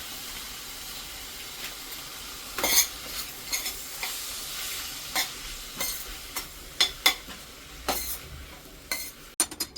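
Vegetables are stir-fried in a pan with Schezwan chutney and chaat masala added, giving a steady sizzle with repeated sharp scraping and clinking strokes of a spatula against the pan.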